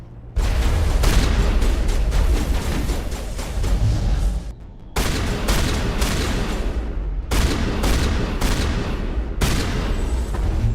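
Sustained bursts of rapid gunfire and booming blasts from a colony battle in Mass Effect, loud and dense, broken by a brief pause before the shooting resumes in heavy, continuous volleys.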